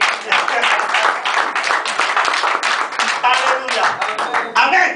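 A church seminar audience claps and cheers in praise, a dense, steady wave of applause with shouted voices mixed in throughout.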